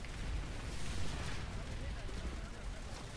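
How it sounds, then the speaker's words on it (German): Dense, continuous rumble of distant explosions and gunfire from a large battle in the video game PlanetSide 2, a steady low roar with scattered blasts throughout. "Wenn da so Explosionen kommen"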